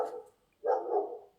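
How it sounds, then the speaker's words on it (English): A dog barks outside, two rough, fairly loud bursts with a short silent gap between them, and no speech over it. "excuse the dog outside."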